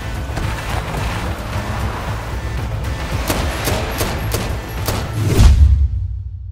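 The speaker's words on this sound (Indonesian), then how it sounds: "Terjadilah aksi baku tembak hingga pada akhirnya Mehdi bersama para remaja" Heavy gunfire from a shootout with a gang of robbers in an action film, a dense rolling barrage of sharp cracks over a loud, rumbling soundtrack that cuts off abruptly near the end.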